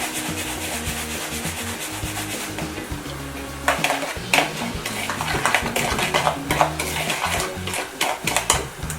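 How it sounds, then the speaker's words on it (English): Dry sugar and half a teaspoon of cinnamon mixed together in a bowl as a churro coating, giving gritty scraping and rubbing strokes that start soft and turn louder and more irregular partway through, with no talking. "you're going to want to take a half a teaspoon of cinnamon, and we're going to mix this together"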